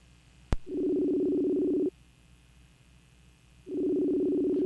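A steady telephone ringback tone sounds as a call goes out to a podcast guest, with two long tone bursts separated by a pause and a sharp click at the start.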